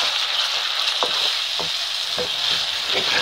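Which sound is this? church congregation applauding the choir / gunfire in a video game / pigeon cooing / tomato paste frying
tomato paste frying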